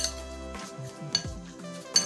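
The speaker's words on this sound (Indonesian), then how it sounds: "Kita aduk rata." Chicken filling for steamed stuffed gambas being stirred in a bowl, a few light clinks and scrapes of a utensil against the bowl in a short quiet stretch.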